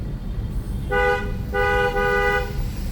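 Two car horn honks, a short toot followed by a longer blast, sound over the low rumble of a running engine.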